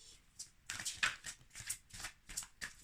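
Oracle cards being shuffled and drawn for a fairy-message reading, giving a run of brisk, close papery riffles and flicks in quick repeated bursts, with no talking over them.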